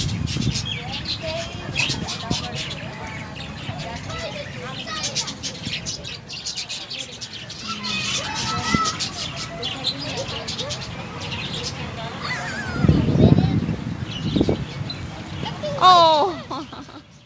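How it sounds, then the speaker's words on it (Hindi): Small caged parrots at Mohatta Palace in Karachi chirp and twitter steadily in the background, while people talk over them and the chatter grows briefly louder near the end. "यहाँ देखो छोटे छोटे तोते।"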